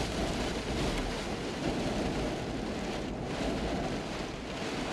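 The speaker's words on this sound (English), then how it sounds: "It's a very windy, rainy day." Steady broadband roar of wind and rain on a very windy, rainy day, loud and continuous throughout with no distinct rumble standing out.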